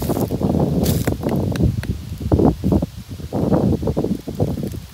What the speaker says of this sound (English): There's a lot of wind coming down through here.